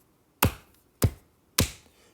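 Three sharp hand claps at an even pace, close and clear, marking out the three syllables of the word detention.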